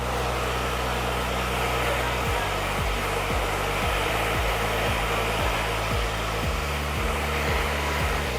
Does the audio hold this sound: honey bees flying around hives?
no